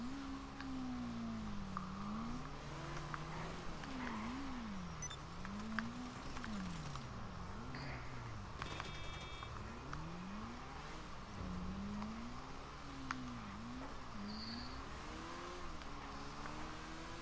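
Motorcycle engine in Grand Theft Auto V revving continuously, its pitch sweeping up and down in repeated waves as the bike accelerates and eases off, fairly close and steady throughout.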